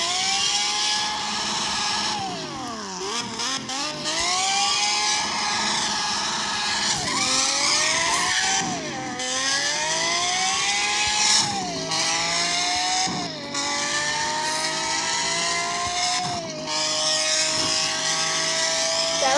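Sports car engine likened to a Ferrari revs hard and loud, repeatedly climbing in pitch, dropping back and surging again in a series of aggressive pulls, alone with no talk over it.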